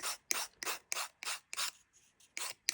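A nail file rasps along the paper edge of a collage ornament in close, rhythmic strokes, about eight short scratchy passes with a brief pause near the middle, quiet and alone.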